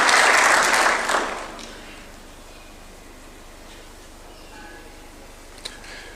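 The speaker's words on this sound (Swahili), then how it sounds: "Tumpigie makofi tafadhali akija." Audience applause at State House in Nairobi when AFC Leopards football club visit the President, a loud burst of clapping that fades after about a second and a half, leaving quiet room tone.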